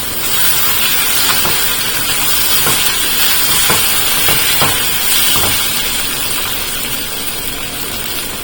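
Onions sizzling in a hot pan with salt for a Telugu-style flat bean curry fry, a steady loud hiss broken by a few soft stirring clicks, with no one speaking.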